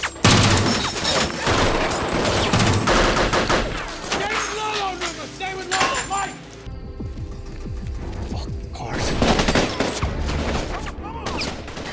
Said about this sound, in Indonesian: mereka keburu diserang hingga terjadi aksi tembak-tembakan